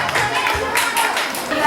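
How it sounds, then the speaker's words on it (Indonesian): Audience clapping for children's performance at a kindergarten graduation ceremony, several bursts of applause in a hall, mixed with crowd murmur. "Mari kita beri tepuk tangan untuk adik-adik kami yang telah menampilkan penampilan terbaiknya."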